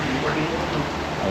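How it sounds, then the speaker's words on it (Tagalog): Heavy rain pours down steadily, a dense, loud, unbroken hiss filling the space with no other clear sounds. "Sobrang lakas ng ulan."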